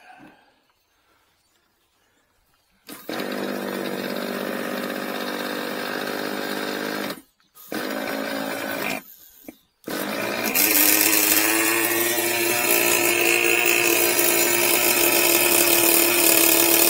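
A vintage Hirobo Shuttle RC helicopter engine, made in Japan, starts and runs at high idle with a loud, close, buzzing whine. It cuts out briefly twice, then settles into a steady, strong run.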